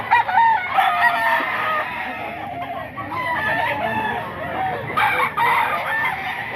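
Chickens at a Filipino grotto market stall, clucking continuously with repeated crowing from a rooster, close and fairly loud, set against a busy market background.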